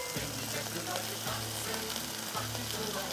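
Chicken breast sizzles in a frying pan with a loud, continuous crackle and hiss, broken by a few low scraping knocks, likely from stirring, at fairly regular intervals, close and steady with no talk.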